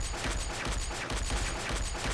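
Rapid gunfire from a weapon firing blue ammunition in the video game Surviv.io, a dense continuous burst of shots with no pauses, loud and close throughout.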